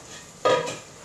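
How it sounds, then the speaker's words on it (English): Sugar and butter melting in a pan on the stove, a brief close burst of sizzling and scraping that flares up suddenly, then tails off into quiet hiss within a second. "we have our melting sugar and butter. They are melting already"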